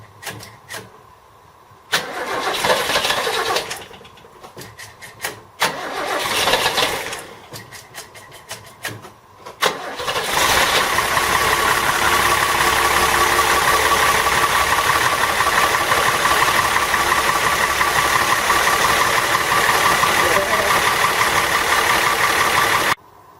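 A car engine turns over in several short cranking bursts with gaps between them, then catches and settles into a loud, steady idle that runs on close by until the end.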